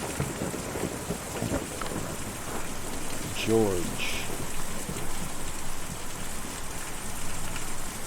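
Steady rain falling in the video game Kentucky Route Zero, a constant hiss with a brief tonal in-game cue midway, while a voice says a word over it.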